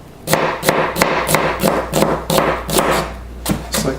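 A knife chops vegetables on a cutting board in a steady run of about a dozen close, crisp knocks, evenly spaced, with no talk over them.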